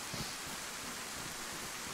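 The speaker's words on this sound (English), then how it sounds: "God, it is raining hard," Heavy rain pours down in the survival video game DayZ, a dense, even hiss of falling water that runs steadily and quietly throughout with no breaks.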